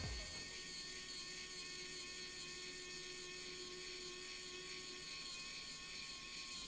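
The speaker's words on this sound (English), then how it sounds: "I ended up using the Wow Stick, which is just a motorized screwdriver" A Wow Stick motorized screwdriver driving screws into a Treasure TYPE-9 Series II macro pad, a steady high electric whine that holds continuously at close range with no talking.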